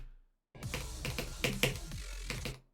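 Keyboard keys are pressed in a quick burst of clicky taps during a Monkey Ball game, close and clear. There is a short silence at the start.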